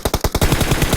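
Rapid bursts of automatic gunfire in the video game PUBG Mobile, a quick run of sharp shots followed by a denser, steadier stream of fire, loud and close with no talk.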